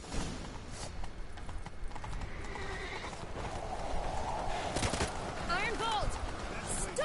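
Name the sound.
horse hooves galloping in video game The Witcher 3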